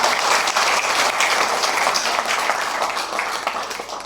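Loud, dense applause from a large audience honoring a guru at a Safe Shop business gathering, steady throughout and fading slightly toward the end.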